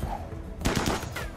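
Gunfire in the video game RimWorld breaks out as a rapid, dense burst of overlapping shots after a quieter stretch, loud and close, continuing as a rattling volley to the end.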